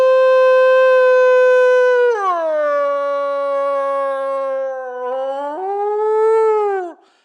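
A person's voice imitates a dog howling: one long, loud, wavering howl lasting about seven seconds. It drops in pitch partway through, then rises again before cutting off, with no other sounds.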